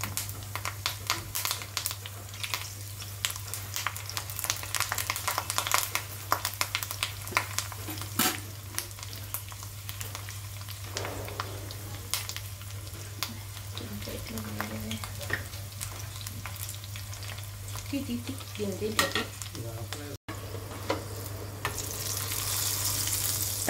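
Dried red chillies, garlic and curry leaves fry in hot oil as a tempering for a tomato and onion roti chutney, giving a steady close sizzle with occasional stirring scrapes and no talking.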